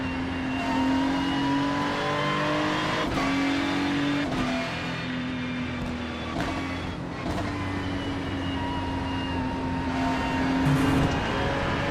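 A McLaren race car engine at Fuji in a racing game, a steady loud onboard drone with a sustained engine tone, shifting pitch at gear changes marked by brief sharp breaks, heard continuously up close.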